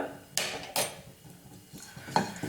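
Grated coconut and chilli powder get mixed in a pan with a metal spoon, giving a few sharp clanks and scrapes against the pan over a faint background.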